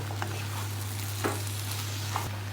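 Chicken noodles frying and being stirred in a pan, a steady sizzle throughout with a few soft scraping strokes spaced apart, alongside a low constant hum.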